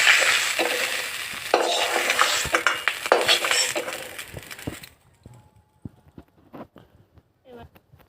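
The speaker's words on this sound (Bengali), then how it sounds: "প্রথমে মাছগুলো ভেজে নিচ্ছি" Small puti fish sizzle loudly in hot oil in a pan for about five seconds, then the frying noise cuts off, leaving quiet with scattered clinks and taps of utensils.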